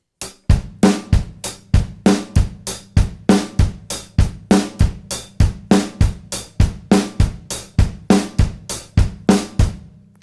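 Bass drum patterns from a drum kit played at a brisk tempo, with steady repeated low kicks and cymbal or hi-hat hits in a driving rhythm, loud and close with no talking.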